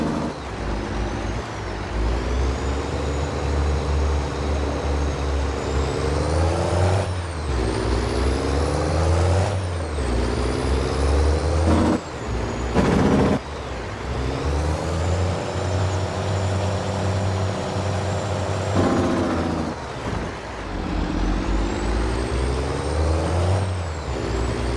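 Truck engine in Farming Simulator 22 droning steadily as it shifts up and down through the gears, with sharp hissing air-brake releases breaking in several times; loud, close and with no talk.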